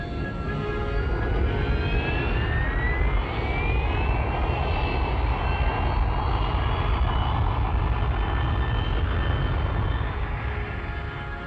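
A Kestrel jump jet from 1965 taxiing on the ground at an unprepared forest site toward cover under trees, giving a loud, steady roaring engine whine with rising tonal sweeps, close by and continuous throughout.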